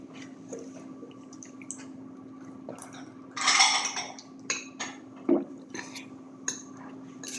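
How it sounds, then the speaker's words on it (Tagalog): Dishes, pots and plates clink and scrape during washing, with splashes and drips of water. The sounds come close and intermittently, with one louder clatter burst partway through, over a steady low hum. "Pinggan namin na urugasan"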